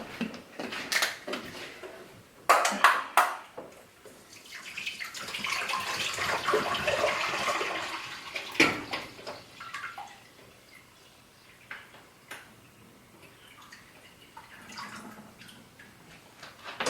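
Water from a nearly one-gallon Poland Spring bottle is poured into a pot for boiling: a steady rushing pour swells for a few seconds in the middle, with clinks and knocks before and after.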